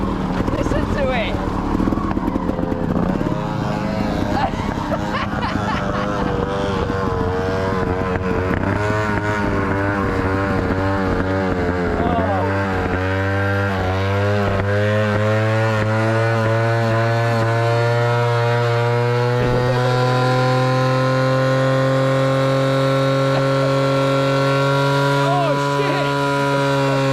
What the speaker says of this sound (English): What is going on with that bike? Listen to it!